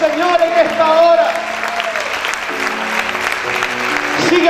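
Congregation applauding during a Spanish-language church worship service, steady sustained clapping from a crowd with a singing or preaching voice over it throughout.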